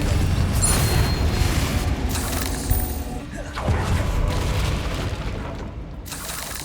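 The Confringo explosive spell goes off in Hogwarts Legacy with a heavy booming blast followed by rumbling debris and a second impact, loud and close, tailing away.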